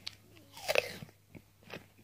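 Close, crisp bites into a crunchy, mostly sweet, fairly dry Red Fall apple grown on a no-dig organic allotment, one sharp crunch followed by a few softer chewing crunches, with no talking.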